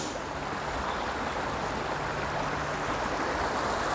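Steady, close rush of a British river flowing freely, continuous and moderately quiet with no voices over it.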